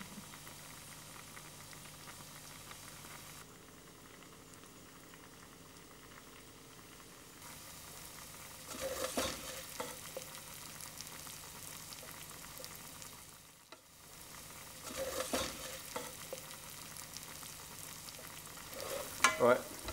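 Pieces of bacon frying until golden in a pan give a steady, moderate sizzle that swells into louder bursts of crackle and spatter in the second half, with no talking.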